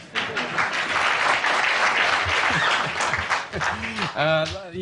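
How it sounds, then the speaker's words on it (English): A 1982 late-night talk show studio audience applauds loudly and continuously while voices talk over the clapping. "If you would like to applaud that, feel free"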